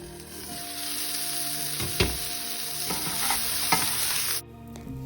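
Brussels sprouts sizzle steadily in a pan while being stirred, with occasional scraping knocks from the utensil, until the sizzling cuts off sharply near the end.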